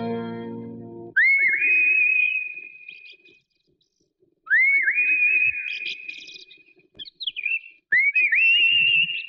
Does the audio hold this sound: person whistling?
yes